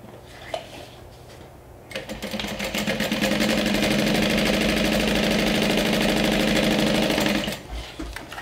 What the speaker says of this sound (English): I'm going to stitch at the top.